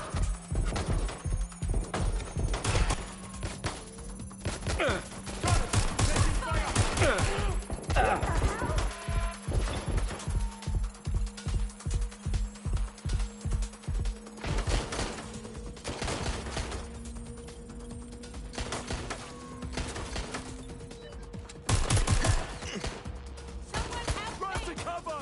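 Gunfire in the video game Watch Dogs: Legion, rapid bursts of shots and sharp impacts over a steady tone, with a voice talking now and then.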